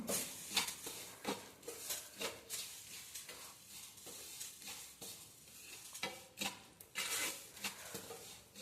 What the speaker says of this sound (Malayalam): ഒന്ന് ഇളക്കി കൊടുക്കണം.